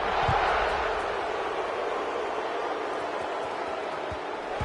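A stadium crowd at a Clemson vs Oregon college football game: a dense, continuous roar of many voices filling the space at steady loudness, with a few low thumps underneath.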